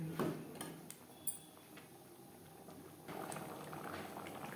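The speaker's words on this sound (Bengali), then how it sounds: "থোরের সাথে ডাল বেশ ভালো করে ফুটতে শুরু করে দিয়েছে" Masoor dal lentils at a steady boil in a pot on a gas stove, a soft continuous bubbling with a few clinks of pot or utensil near the start, fairly quiet and close.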